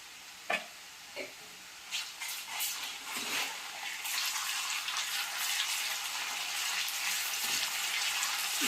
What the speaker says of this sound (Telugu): ఇప్పుడు 1 స్పూను అల్లం వెల్లుల్లి పేస్ట్ వేసుకోండి.